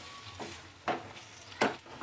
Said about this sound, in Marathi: तर ही वांगी आपल्याला 1 ते 2 मिनिट चांगलं तेलामध्ये छान परतून घ्यायची आहेत.